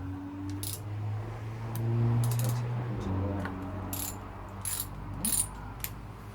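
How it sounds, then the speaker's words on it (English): Small retaining bolts are worked loose from the cam of a Honda CB250N motorcycle engine: a steady background hum carries a string of sharp metallic ratchet clicks and light tool clinks, close and intermittent, without speech. "Now undo these couple of little retaining bolts on the cam."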